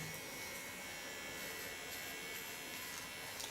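A small electric hair clipper works through short curly hair, giving a faint, steady buzzing hum that runs unbroken at low volume, with no talking.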